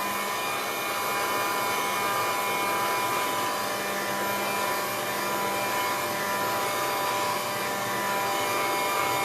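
A hair dryer blows steadily on chalk paint on a round canvas, one continuous loud whooshing drone with a constant whine that holds unbroken throughout, close to the listener, with no talking.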